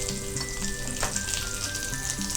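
Onions sautéing lightly in a pan with a pinch of turmeric give a steady, close, crackling sizzle throughout, with no talking.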